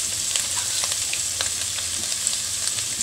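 Soybean chunks frying in hot oil in a pan, a steady, bright sizzling hiss with small scattered pops, close and constant throughout.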